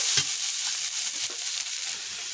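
Green chili paste fries in oil with onion, ginger and garlic as the base of a cauliflower, potato and rohu fish curry. A loud, continuous close-up sizzle hisses throughout with no voices.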